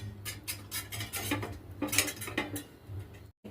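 A steel plate being handled and greased with ghee while making coconut chikki gives off a series of light metallic clinks and taps at close range. The scraping and knocking come in an irregular rhythm, with no talk.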